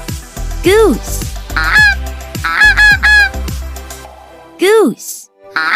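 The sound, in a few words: goose honking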